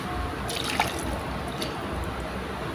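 Water is poured into a cooking pan holding boneless milkfish prepared humba style, a steady liquid splash and drip over a continuous sizzle-like wash, close and fairly loud.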